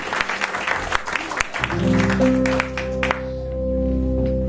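An audience at a live show welcoming a blues performer onto the stage, with a brief burst of clapping before it gives way to a sustained musical chord and talk.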